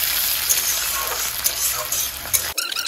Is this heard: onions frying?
yes